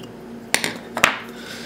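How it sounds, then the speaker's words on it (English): Two sharp snips as a tool cuts through fiber strands inside a Cat5 Ethernet cable while an RJ45 patch cable is being made, close and fairly crisp, with a faint steady hum underneath. "Then you're gonna wanna cut this piece of fiber off here."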